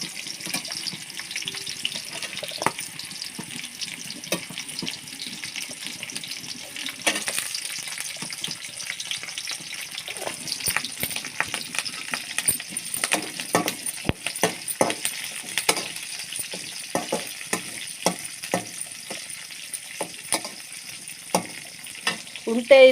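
Onions sizzle and fry in a pan for potato curry, a steady dense crackle with scattered pops and occasional stirring clatter throughout, close and fairly loud with no talking.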